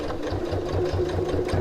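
A sewing machine runs steadily, stitching the panels of a reversible tote bag with a zipper pocket and slip pocket, a close continuous hum with a fast rhythmic pulse throughout.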